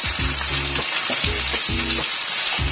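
Bagoong alamang (shrimp paste), first boiled in vinegar, fries in oil for a sweet and spicy Filipino-style dish, a loud, close, continuous sizzle broken by a few rhythmic low scraping stirs.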